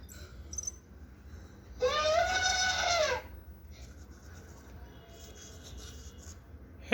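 An EMO desktop robot pet plays a synthetic elephant imitation: one loud, trumpeting electronic blare lasting over a second, alone against a quiet indoor background.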